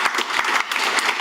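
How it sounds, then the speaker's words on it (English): A conference audience claps briefly, a dense, even burst of many hands at moderate distance. "Are we going to clap?"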